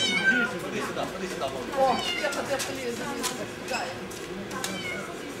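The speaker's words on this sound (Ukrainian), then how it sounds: "Три дні кішка не могла самотужки злізти з дерева." A cat stuck up a tree for three days meows repeatedly in distress, several plaintive cries spread across the moment, heard under a news narrator's voice.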